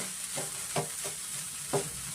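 Vegetables frying in a pan over a medium flame, a steady soft sizzle broken by a few brief scraping stirs, close and without voices.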